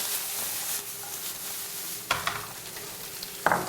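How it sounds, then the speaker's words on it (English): Garlic and tomatoes sear in a hot pan in a restaurant kitchen, giving a steady loud sizzle with sharp bursts of crackle near the end as food is stirred or added. "Get a nice sear in that."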